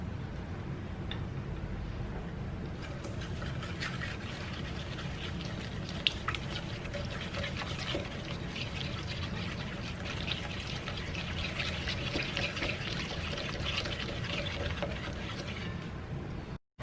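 Vegetable oil and sugar being mixed together in a bowl for orange breakfast cookies, giving a steady wet, scraping churn that runs continuously and fairly close throughout.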